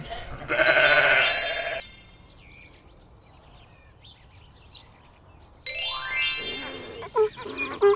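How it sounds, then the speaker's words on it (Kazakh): A sheep bleats twice, loud and close, with a quiet pause between; faint birdsong fills the gap. "Қой. Қой."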